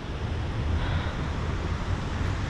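The Szklarka waterfall near Szklarska Poręba sends up a steady, even rush of falling water, a continuous broadband roar without pauses and with no voices over it.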